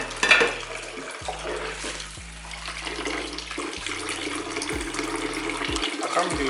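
Water runs and splashes in a kitchen sink as dishes are washed, with a continuous faucet stream, occasional clinks, and a low hum underneath, no talking.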